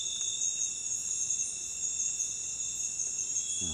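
Crickets chirp behind bamboo in a forest at a camping spot, a steady high shrill drone running unbroken throughout, with no voices and only faint low rustling beneath.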